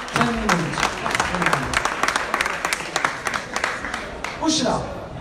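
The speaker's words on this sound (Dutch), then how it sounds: "Goed gedaan, geef ze een applaus" A community evening audience applauds, sustained clapping from a room of people, loud and close, with voices talking over the clapping throughout.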